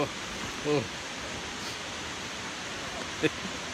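The Tad Yeuang waterfall near Pakxong gives a steady, broad rushing roar that fills the scene. Brief voices break through it a couple of times.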